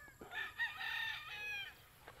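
A rooster crows once, close and clear, in a cording area for gamefowl, a single drawn-out call.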